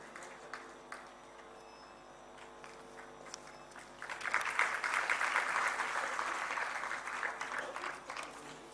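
At an awards ceremony honouring meritorious students, quiet scattered sounds give way midway to a swell of audience applause that stays full and steady, then eases slightly near the end.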